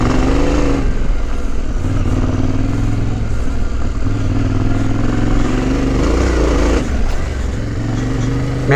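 A 2021 Yamaha Tenere 700 motorcycle rides off-road, its engine rumbling and surging through throttle changes under steady wind and clatter, loud and close.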